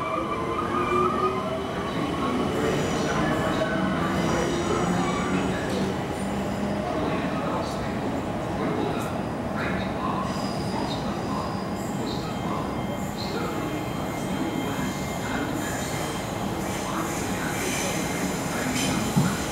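A Southern and Gatwick Express Class 387 electric train runs through Clapham Junction station with a loud, continuous rumble, rhythmic wheel clatter and faint squeal. Someone talks in the background.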